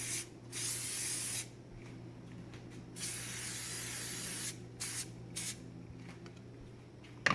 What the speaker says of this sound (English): grease the pan, I use this virgin coconut oil